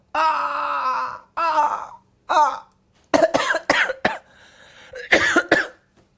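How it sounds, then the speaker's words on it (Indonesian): A voice lets out a few long wailing cries, then breaks into a burst of harsh, repeated coughs close to the mic. "maaf guys, batuk"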